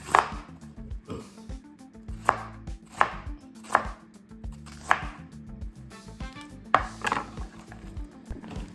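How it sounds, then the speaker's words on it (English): A knife chops bell peppers into rings on a cutting board, roughly a dozen crisp, evenly spaced cuts close by with no talking. "All right, so we're just gonna cut these up to rings."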